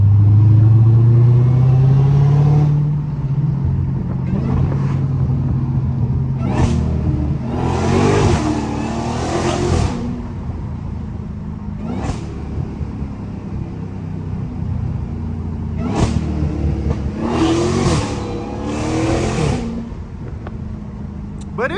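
A modified Dodge Hellcat's engine and exhaust revving from inside the car, a deep droning rumble rising and falling with repeated louder throttle bursts, continuous and close.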